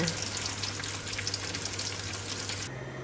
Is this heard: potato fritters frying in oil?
yes